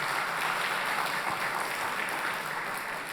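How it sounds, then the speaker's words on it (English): A large audience at a civics bee event in a library hall breaks into sustained applause, a loud, even wash of many hands clapping throughout with no pauses. "let's give that a round of applause."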